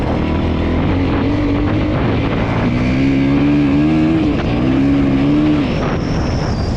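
A Lifan SR220 motorcycle with a four-valve engine, at about 5,000 km, revs up under load through the gears. Its loud, close engine drone climbs in pitch, dips at a gear change, then climbs again, alongside steady wind rush.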